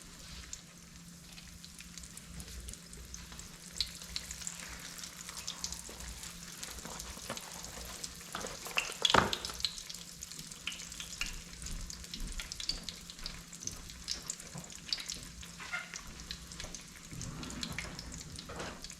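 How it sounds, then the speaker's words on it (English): Apple pies fry two at a time in a pan set to 300, giving a soft, steady, even sizzle throughout, with occasional faint clinks and no talking. "We want to fry these till they turn golden brown."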